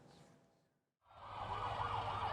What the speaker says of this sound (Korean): 인근 도로엔 소방차 20여 대가 잇따라 출동했습니다